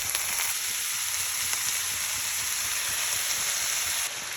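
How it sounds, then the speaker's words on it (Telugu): Broccoli florets frying in a pan with moong dal, giving a steady, close sizzle and crackle that runs unbroken from start to finish with no voices. "పెసరపప్పు వేగింది. ఇప్పుడు బ్రోకలీ వేసుకుందాం."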